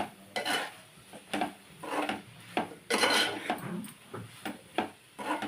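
A spoon stirring chilli powder frying in oil in a pan for a tomato and drumstick curry, quiet scraping and clinking strokes in an irregular rhythm, close by.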